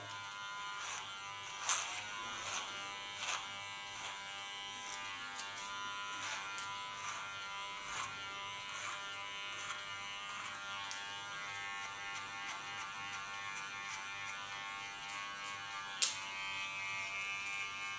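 Electric hair clippers buzzing steadily at close range as the blade cuts through strong hair for an asymmetric side shave, with occasional sharp clicks and snips over the continuous hum.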